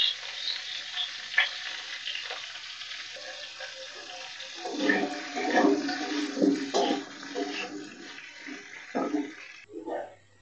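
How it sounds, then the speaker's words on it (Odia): Potatoes frying in oil with a pinch of salt in a pan, a soft continuous sizzle with some stirring and scraping noises, fairly quiet and close. "ଆଉ ଟିକେ ତେଲ ମିଶାଇକି ଆଳୁକୁ ଭାଜିବା, ଲୁଣ ଟିକେ ପକାଇ ଭାଜିବା"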